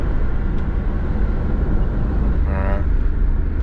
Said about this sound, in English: I see how it sounds with the exhaust open and behind the car, but just cruising.